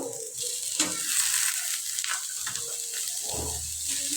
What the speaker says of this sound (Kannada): ಟೊಮೆಟೊ ಹಾಕಿ ಚಲೋತ್ನಾಗ ಅದು ಮ್ಯಾಶ್ ಆಗಬೇಕು, ಅಲ್ಲಿವರೆಗೂ ನಾವು ಫ್ರೈ ಮಾಡ್ಕೋಬೇಕು ಗೈಸ್